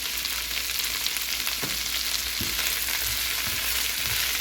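A chopped ingredient, with broccoli, fries in a pan while pasta is being made, giving a steady, close hiss of sizzling oil with a few soft knocks of stirring and no voices.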